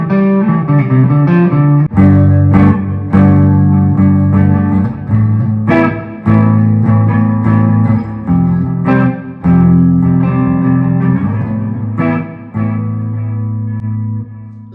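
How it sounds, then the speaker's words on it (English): A Westcreek High Voltage electric guitar plays clean strummed chords and picked notes through reverb and delay, loud and ringing with echoing tails between strums. "Here are some cleans with a little bit of reverb and delay."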